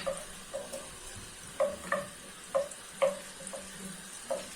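Butter melting and gently sizzling in a pan while being stirred, soft steady frying hiss with repeated light scraping taps of a utensil against the pan, close and fairly quiet.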